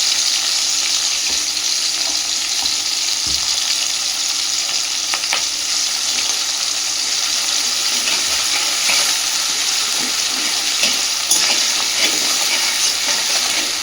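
Garlic paste and potatoes fry steadily in a pan with a continuous close sizzle, a few soft scrapes of stirring breaking through now and then.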